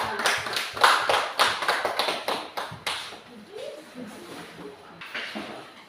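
A classroom group claps together in quick uneven bursts for around three seconds, then it thins to scattered claps while voices talk over the tail.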